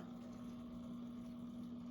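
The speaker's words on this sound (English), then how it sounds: "you just click it on and you'll hear the pump working" A small electric water pump runs while siphoning water from a turtle tank into a bucket, giving a low, constant motor hum with a faint watery burble, unbroken and close by.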